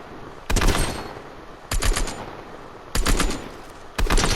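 Four loud, sharp shotgun blasts from the 2-shot shotgun in the video game Raiders, spaced roughly a second apart, each with a brief booming tail and no voices.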